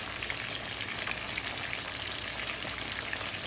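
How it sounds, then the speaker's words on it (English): Curried chickpeas and potatoes simmering in a pan, a steady, even bubbling hiss like light rain, close and continuous with no voices. "Let it simmer. Let it simmer."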